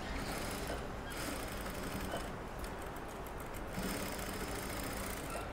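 A sewing machine stitching the shoulder seam of a child's designer blouse, running as a dense, steady whirring hum with slight changes in pace, close and continuous with no talking.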